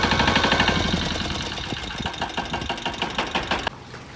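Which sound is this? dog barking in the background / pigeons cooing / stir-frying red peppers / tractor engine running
tractor engine running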